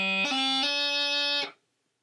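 Bagpipe chanter plays a light throw on D, a quick run of steady reedy notes from A down to low G and up to a held D, loud and close, then stopping cleanly.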